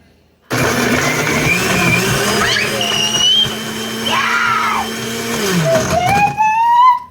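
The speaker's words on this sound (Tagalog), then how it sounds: "So now, we're gonna blend it again." A loud electric blender blends watermelon shake, whirring steadily for several seconds, its motor pitch shifting as it churns, with voices talking over the noise.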